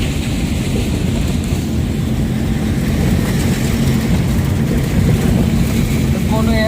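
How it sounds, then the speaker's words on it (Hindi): Steady engine and road rumble inside a moving taxi, a constant broadband drone with no breaks throughout. "हम लोग अभी टैक्सी में हैं।"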